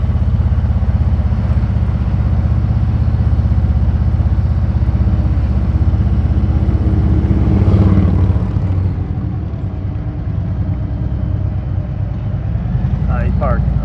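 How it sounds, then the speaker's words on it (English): Motorcycles at the Sturgis Rally rumble steadily throughout, a continuous loud engine drone with idling and revving bikes nearby, under occasional voices. "Bikes are already lining up."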